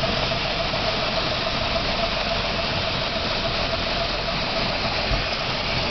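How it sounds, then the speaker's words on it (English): A 1955 Ford Vanette P-350 engine idles in a steady, loud rumble with a continuous rough, breathy hiss from an exhaust leak running through it, close by and unbroken. "Exhaust leak, I think, John."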